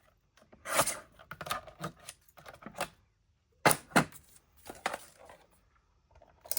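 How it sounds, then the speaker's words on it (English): Scissors snipping a small piece off a sheet of paper, a series of close, sharp cuts and crisp paper rustles in irregular bursts with a short pause midway. "I think I'll cut a little 1/2-inch piece off."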